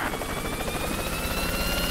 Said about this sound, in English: Oh, I've got a chopper.